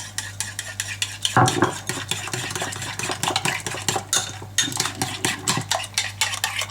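A spoon stirs a vanilla-seed mixture for French pastry with pudding filling, giving a steady run of loud scraping and clinking strokes against the bowl with a low continuous hum behind them and no talk.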